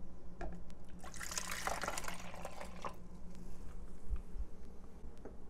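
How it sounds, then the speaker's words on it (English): Water phase of a homemade aloe vera after-sun lotion is poured into a container, making a bright, splashy trickle that peaks early and then fades into a low, steady background hum. "We will go ahead and add our water phase."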